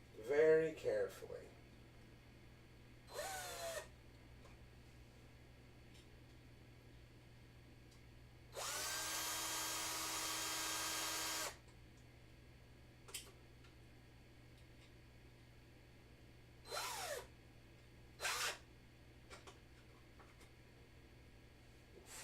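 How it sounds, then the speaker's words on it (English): Power drill boring through material during a print-and-play build, heard in several short bursts with one longer steady whine in the middle, fairly close, with quiet gaps and brief talk between. "let's drill this through very carefully"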